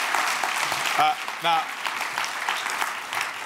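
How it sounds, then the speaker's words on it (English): Audience applause rings out at a gastronomy congress, a steady wash of clapping that runs the whole way through while someone speaks briefly over it. "So please give a huge round of applause"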